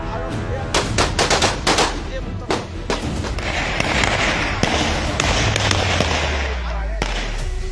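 Gunfire rings out during a violent riot outside a district prison amid burning vehicles and barricades, a rapid series of sharp, loud cracks in clusters over a roaring crowd, with a low engine rumble later.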